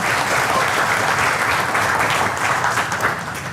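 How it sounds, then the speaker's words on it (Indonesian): Seminar audience in Indonesia bursts into steady, dense applause that stays loud and even for several seconds before tapering slightly at the end. "Tepuk tangan buat kita semua sekalian ya"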